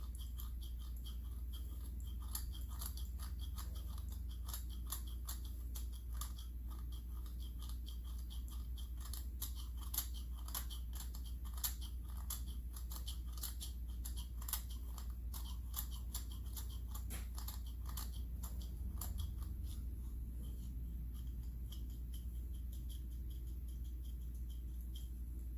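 Tool scraping carbon deposits off the cylinder of a Stihl 026 chainsaw, rapid dry scratchy strokes repeated throughout over a low steady hum, close and fairly quiet.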